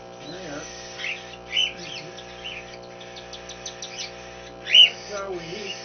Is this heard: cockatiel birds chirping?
yes